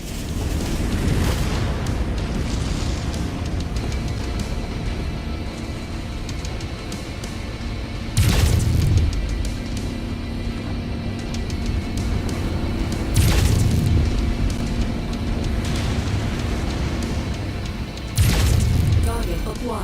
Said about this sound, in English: Incoming missile. Target destroyed.